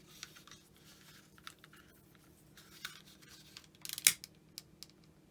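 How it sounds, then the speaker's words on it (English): Scissors snip off the loose end of a tied cord knot on a faux hammered metal pendant, giving one sharp, close cut amid quiet handling rustles. "Snip the end off."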